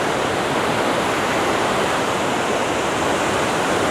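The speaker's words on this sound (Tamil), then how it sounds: "இதோ பாருங்க, பயங்கரமாக இருக்குது ஃபால்ஸு." A large waterfall in Sri Lanka roars in a dense, constant rush of falling water, loud and unbroken with no voices.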